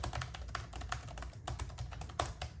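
Rapid, light typing on a Lenovo Legion Pro 7i laptop keyboard, tactile but not very clicky, heard close and quiet as a dense patter of key taps with no voices.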